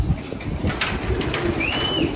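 Pigeons coo softly inside a breeding loft, low throaty coos repeating over a steady background hum, with a brief higher chirp partway through.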